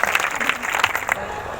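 A congregation at a live prayer meeting claps for God, dense rhythmic hand clapping close and loud, with some voices mixed in, stopping abruptly near the end.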